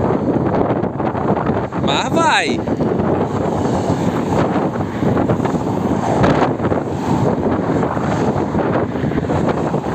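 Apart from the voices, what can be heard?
wind noise on microphone while flying FIMI X8 Mini drone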